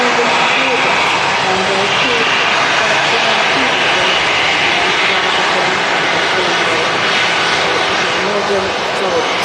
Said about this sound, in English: TUI Dreamliner next to land.